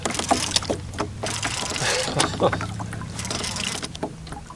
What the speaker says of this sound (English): I'd give the motor a little juice because this wind has kind of got me cockeyed.